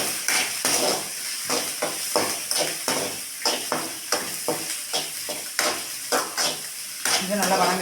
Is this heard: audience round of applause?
no